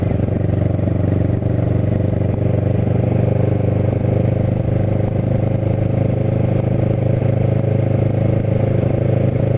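A Kawasaki Ninja 650R is ridden through Cape May after Labor Day; its engine drones loud and steady with continuous wind rush, no speech heard.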